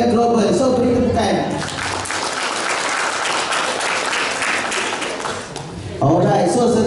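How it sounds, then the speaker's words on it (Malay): An audience at a motivational seminar bursts into sustained applause, dense clapping filling several seconds before fading as a voice returns. "So, beri tepukan."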